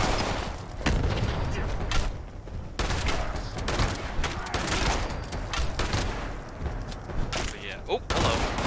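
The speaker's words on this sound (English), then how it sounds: "Oh, grenade." Rapid gunfire and a grenade blast crackle through a Fallout 76 firefight, with dense overlapping shots that drop out briefly, while players talk over the action.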